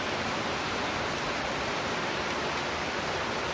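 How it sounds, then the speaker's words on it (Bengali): Heavy rain pours steadily at night during a flood, a dense, even hiss with no breaks and no voices. "প্রচুর বৃষ্টি পড়তেছে।"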